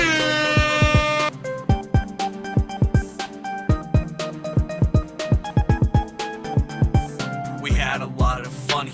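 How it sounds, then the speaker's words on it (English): A song carries a blaring air horn sound effect, a long sustained tone at the start. Rhythmic percussive hits and a vocal line follow, all loud and up front. "can I get a fucking air horn?"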